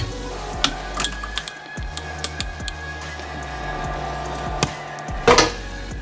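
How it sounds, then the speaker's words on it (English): A sturdy spoon mixing bread flour dough in a bowl, with scraping thuds, sticky stirring and occasional clinks against the bowl, close and fairly loud, no talk. "using a really sturdy spoon, you're gonna mix this all together"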